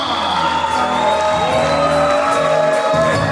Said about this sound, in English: Cheer 'em on, cheer 'em on, cheer 'em on